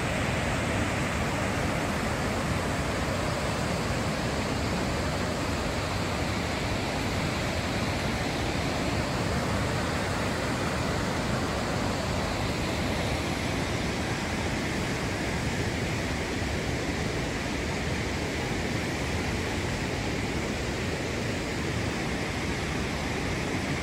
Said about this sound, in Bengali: প্রচন্ড গতিতে এই জল নেমে আসছে